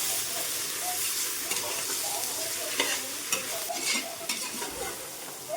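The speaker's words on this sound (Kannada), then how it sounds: "ಈರುಳ್ಳಿ ಚೆನ್ನಾಗಿ ಫ್ರೈ ಆಗಿದೆ." Onions frying in a pan while cooking tomato bath, a close, steady hiss and sizzle with occasional stirring scrapes, continuous throughout with no talking.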